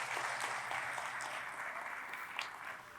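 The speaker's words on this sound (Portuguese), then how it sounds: "Você pode aplaudir na vida dela?" Congregation applauding during a church service, a sustained wash of many clapping hands at moderate level, steady for a few seconds with a few sharper claps standing out near the end.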